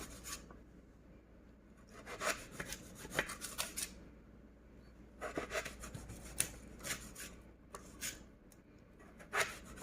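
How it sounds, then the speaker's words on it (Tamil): A knife slices peeled potatoes for french fries in quick clusters of rasping, scraping strokes, close and fairly faint, separated by short pauses. "இப்போ நம்ம இதை ஸ்லைஸாக கட் பண்ணிக்கலாம்."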